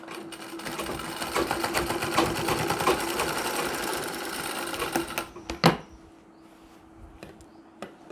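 An electric sewing machine stitches a nauvari saree, running in a fast, steady stream of needle clatter for about five seconds before it stops. A few faint clicks and handling sounds follow in the quiet.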